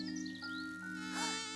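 A cartoon bug buzzes steadily and close, a thin whining drone like a fly or mosquito that wavers in pitch, alone without speech.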